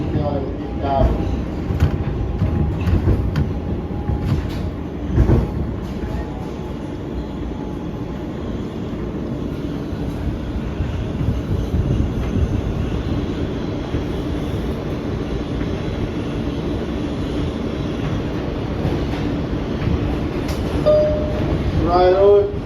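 Riding aboard an NYC Subway R160B Siemens E train in Queens near Briarwood, a constant loud rolling rumble with scattered clanks and faint squeals, with indistinct voices mixed into the noise.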